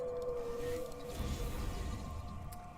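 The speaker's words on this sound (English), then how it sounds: "Yes, whale, I hear you." Whale calling in Dishonored: Death of the Outsider, a long, low, moaning tone drifting over a deep watery rumble, eerie and sustained.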